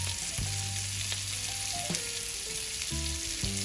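Chopped garlic fries in a hot pan with a steady, close crackling sizzle and a few quick stirring scrapes, constant throughout the short stretch and with no voices.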